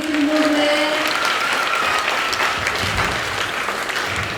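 An audience applauds continuously at a charity event for children in Haiti, producing dense, even clapping that stays fairly loud throughout, with a brief tonal sound at the start.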